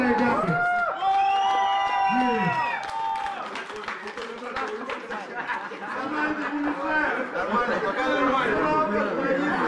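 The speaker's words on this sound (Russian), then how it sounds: "Ваши аплодисменты, господа и дамы." A crowd at a live rap show in a restaurant-club applauds and cheers, with whoops and shouting voices over continuous clapping that holds throughout.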